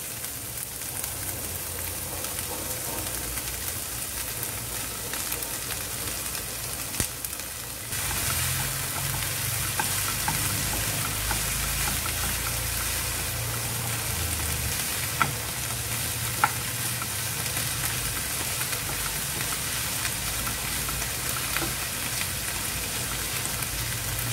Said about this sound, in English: Now let us add the spinach.